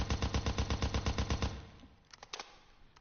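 A SCAR rifle fired from the hip in America's Army rattles off a rapid burst of about a dozen loud, evenly spaced shots, then stops, leaving a few faint clicks and thuds.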